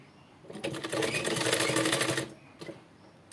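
Sewing machine stitching a blouse neck: a steady, rapid mechanical whirring run of about two seconds, close and fairly loud, with softer start and stop clicks around it and no talking.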